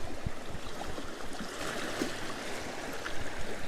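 Seawater draining back out over coastal rocks, a continuous gurgling and trickling rush with scattered splashes, steady and fairly close.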